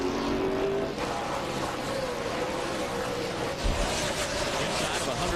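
Racing trucks roar around the oval at the 2005 UAW-GM Ohio 250, a dense continuous engine drone with rising and falling whines as trucks pass, loud and sustained throughout.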